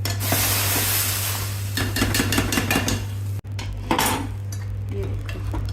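Hot tempering (tadka) is poured into cooked dal, with brief bursts of sizzling and clinking of a metal pot and spoon over a steady low kitchen hum.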